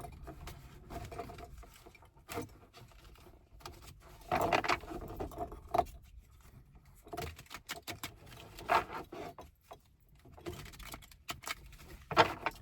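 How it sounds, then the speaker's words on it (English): Riffle shuffling a deck of tarot cards, several quick fluttering bursts of cards riffling together with soft handling taps between, close and quiet with no talk. "Give these a good ruffle shuffle."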